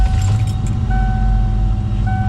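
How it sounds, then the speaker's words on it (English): A 33-year-old Ford Bronco XLT started with its key, loud and close throughout, a steady low engine rumble with faint jingling early on. "So with one of the 3 keys, I can insert it over on this right side here and start this up."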